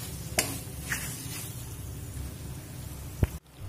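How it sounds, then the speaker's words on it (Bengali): Chicken sautés in a pan, a steady close sizzle with a few soft stirring scrapes and one sharp knock near the end before the sound cuts off. "চিকেনটা খুব সুন্দর করে কষিয়ে নেব।"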